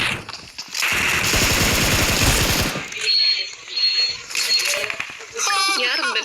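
Rapid bursts of video-game gunfire rattle loudly for a couple of seconds, followed by scattered shots and electronic game effects, with excited voices talking over the action during a Kannada match.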